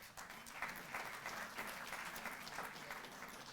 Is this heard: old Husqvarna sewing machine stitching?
no